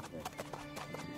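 Horse hooves clip-clop at a steady walking pace beneath ongoing talk, with a faint whinny mixed in, as a child rides the horse while an elderly man walks alongside on foot.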